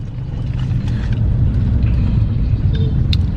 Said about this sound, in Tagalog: Ang traffic!